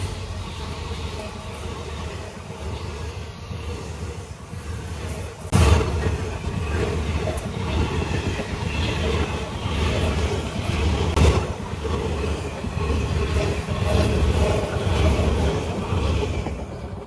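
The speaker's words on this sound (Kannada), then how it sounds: "ನೋಡಿ ಟ್ರೈನ್ ಬಂತು." A train rolls past close by in a steady loud rumble that stays throughout, with a sharp clank partway through and wind buffeting the microphone.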